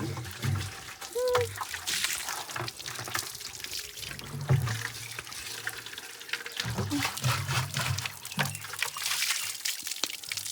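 Cold spring water is poured from a small water pot in a village home, a gurgling, trickling pour with splashes that continues throughout, heard close up with faint background noise.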